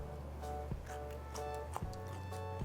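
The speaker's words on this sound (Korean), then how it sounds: "아삭아삭 소리 들리시죠?" Someone chews cucumber champuru with bean sprouts, a Japanese home-style stir-fry, producing a few soft, close crunches over a quiet, steady background.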